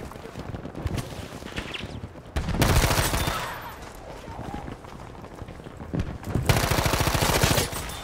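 Rapid rifle fire crackles in two sustained automatic bursts during Battlefield V infantry combat, loud and close, separated by quieter footsteps and movement noise.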